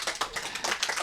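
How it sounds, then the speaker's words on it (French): Applause from a small group in a casual sports-themed discussion setting, a brief burst of clapping with irregular hand claps, fairly close and steady, no voices over it. "carrément les applaudissements pour Lisandre"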